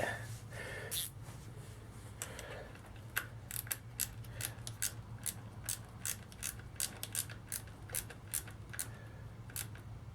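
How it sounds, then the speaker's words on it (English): A ratcheting 10mm stubby wrench tightens a battery bolt on a Harley-Davidson XLH Sportster motorcycle, giving a run of sharp, close clicks in quick bursts over a low steady hum, with brief faint voice sounds early on. "I'll hit it with the ratcheting 10mm stubby wrench"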